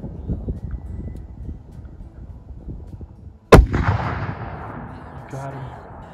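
A single loud rifle shot at a bull elk cracks sharply and close, then rolls off into a fading echo, with quiet talk before the shot.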